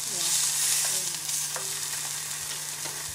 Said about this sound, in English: Now I'm going to just flip the salmon now.